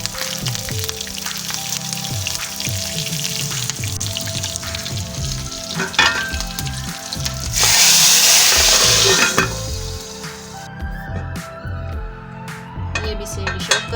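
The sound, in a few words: chillies frying in tadka tempering for chickpeas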